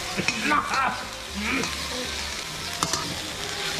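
Chicken being stir-fried Thai khua kai style in an iron wok, with a steady, close sizzle of hot oil and irregular stirring scrapes and clacks throughout.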